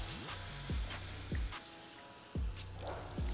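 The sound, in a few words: garden hose spraying water to rinse car windshield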